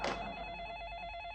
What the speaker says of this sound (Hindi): ये वो पागल टीशा का ही फोन होगा, कोई नहीं उठाएगा।